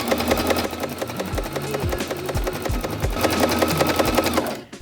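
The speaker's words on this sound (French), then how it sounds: "je vais faire un point zigzag" Domestic sewing machine stitching a zigzag seam on summer jumpsuit fabric, a fast steady mechanical rattle with rhythmic clicks that runs continuously, close and fairly loud, before stopping abruptly at the end.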